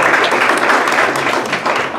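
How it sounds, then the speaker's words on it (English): Loud, dense applause from an audience at an affordable housing forum, a steady wash of many hands clapping at once, continuing evenly for a couple of seconds. "Round of applause."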